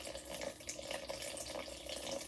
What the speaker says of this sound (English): Start adding some water.